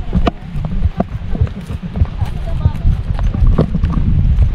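Horse hooves clip-clop on a trail ride in Chon Kemin National Park, Kyrgyzstan, a close, uneven run of thuds with voices talking over them.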